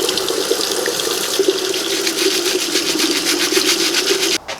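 Water runs steadily from a tap into a sink, filling a degreasing bath of dish soap for cleaning parts of a retro electric range. The gushing is loud and close, with no talk, and it stops abruptly just before the end.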